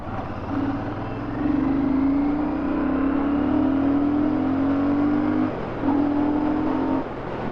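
A motorcycle engine with its stock silencer revs up steadily to a sustained high drone, eases off briefly, then revs again, close and loud.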